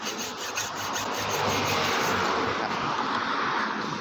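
Steady, close rasping strokes of a hand saw cutting through a 4-inch motor armature, a continuous metal scraping with no pauses and no voices.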